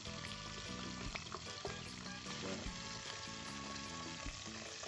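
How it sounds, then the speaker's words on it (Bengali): Small tangra fish fry in hot oil, a steady dense sizzle and crackle that runs unbroken and close, with occasional light pops and no talking. "এই কটা ট্যাংরা আমি ফার্স্টে ভেজে নিচ্ছি"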